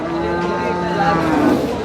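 Cows at a cattle market in Sardarnagar, where a loud, close, drawn-out low moo carries over the background murmur of the crowd.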